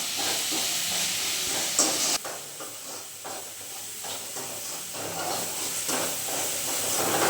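Onions sauté in a pan with a steady, hissing sizzle, close and fairly loud. Occasional stirring scrapes break through it now and then, and no one speaks.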